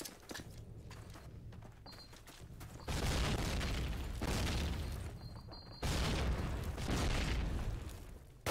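Grenade explosions in a Call of Duty match. Two heavy, booming blasts land about three seconds apart, each followed by a long rumbling roar over faint background game noise.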